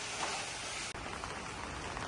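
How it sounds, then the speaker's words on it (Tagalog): Steady rain patters on umbrellas outdoors during work, a dense, even hiss with a brief break, no voices. "habang pumapatak ang mga ulan sa aming mga payong"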